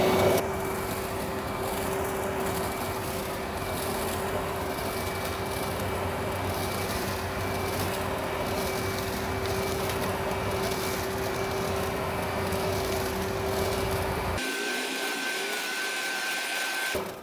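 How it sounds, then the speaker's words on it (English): A Makita DUB363ZV 36V cordless leaf vacuum runs steadily with a loud, constant whine and airy roar as it clears leaves from a lawn, then cuts out abruptly near the end, leaving a faint lingering tone. "the leaf vacuum, is doing a pretty good job of clearing the leaves, leaving nothing behind on the lawn"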